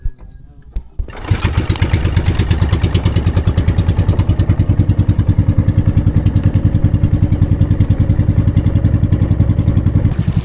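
An engine cranks and starts, then settles into a loud, steady, rapid chugging idle that runs close by without pause.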